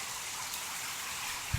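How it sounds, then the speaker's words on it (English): Rain falling outdoors during a thunderstorm makes a continuous broadband hiss, even and fairly loud throughout, with one brief low thump near the end. "it's raining now."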